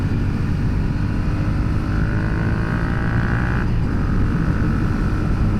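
A Yamaha FZ-07 motorcycle engine drones steadily while riding, a loud continuous low rumble with a rising whine and a brief shift in pitch near the end, heard up close amid wind noise.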